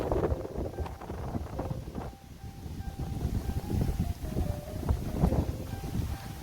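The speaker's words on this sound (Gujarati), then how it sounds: "તો પવન જ બહુ ચાલે છે, તો જુઓ એટલો બધો પવન ચાલે છે." Strong wind gusting across an open vegetable farm field, buffeting the microphone with a continuous low rumble that swells and dips throughout, with no talking.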